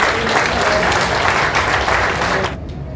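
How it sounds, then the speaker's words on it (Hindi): A gathering at a Ramlila committee event in Indraprastha gives a loud, dense burst of applause that fills the air for about two and a half seconds, then drops off abruptly. "तो एक जोरदार तालियां हो जाती है।"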